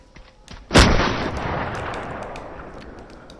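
A single heavy gunshot booms in the survival video game SURV1V3, a sharp close blast with a long rumbling decay, preceded by faint clicks and small sounds.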